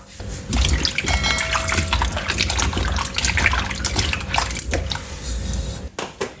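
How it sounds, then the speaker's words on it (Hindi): Potatoes are washed by hand in a bowl of water, giving continuous close sloshing and squishing with splashes and drips, loud and steady, then trailing off near the end. "इनको 2-3 पानी से धो लेंगे अच्छी तरह"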